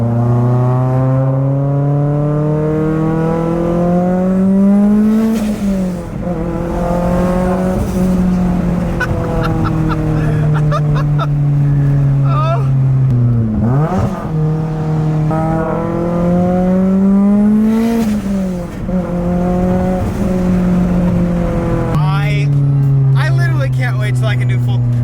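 Mitsubishi Evo X engine revving at partial throttle, pitch rising and falling across several long, loud sweeps with a sharp dip between them, heard up close with no talking.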